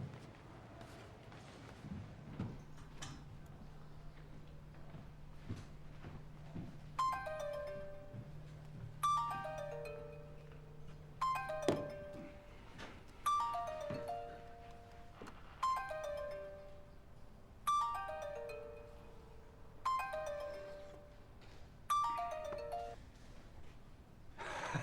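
Phone rings during a call in a drama: a repeating electronic ringtone, about eight evenly spaced bursts of descending chiming notes, fairly faint over a quiet room after a low steady hum at the start.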